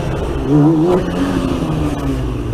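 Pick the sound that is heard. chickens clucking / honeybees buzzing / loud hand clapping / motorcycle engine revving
motorcycle engine revving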